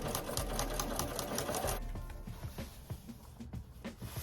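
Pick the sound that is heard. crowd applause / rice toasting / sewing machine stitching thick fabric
sewing machine stitching thick fabric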